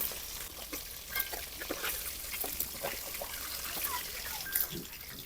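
Pangas fish pieces from a 1.5 kg fish fry in hot oil, giving a soft, continuous sizzle with scattered small crackles and spits, quiet and close.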